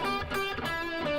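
Sustained, layered electric guitar tones through a Marshall Super Lead amp run without a break, thickened by distortion with a delayed, reverberant wash behind them.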